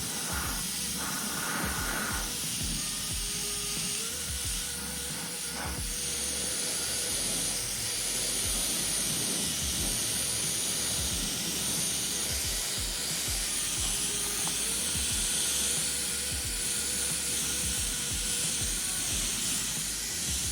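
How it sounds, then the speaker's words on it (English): Spray paint hissing steadily onto the body of an Early Bronco during a patina paint job, a continuous close hiss lasting about twenty seconds with slight swells as the can moves. "You can even hold it down a little bit so it'll cast that overspray down."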